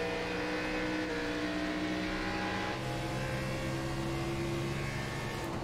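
Xfinity Series stock cars race at Iowa Speedway in a video game. A loud, continuous engine roar holds sustained droning pitches that shift slightly midway, steady and close throughout, with no speech.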